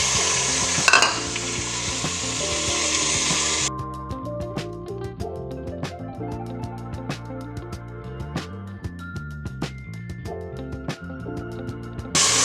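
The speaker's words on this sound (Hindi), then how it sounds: "अब इसमें चिकन डालते हैं, उसे भून के फिर बाद में मसाले डालने हैं" Chicken frying in masala for palak chicken gives a loud, close sizzle for the first few seconds, then drops away as background music with tonal notes takes over for the rest.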